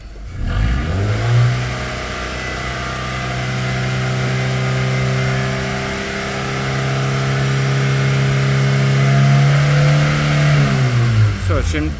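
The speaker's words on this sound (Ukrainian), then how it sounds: "Даємо ще раз газу." A Skoda Octavia Tour 1.6 BFQ petrol engine is held at raised revs, a steady loud droning rev that climbs slightly and settles back near the end, heard up close and continuously.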